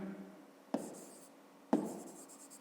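Pen writing on paper during a fifth-grade maths exercise, two short scratchy strokes about a second apart, close and quiet.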